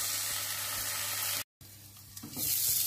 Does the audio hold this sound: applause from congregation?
no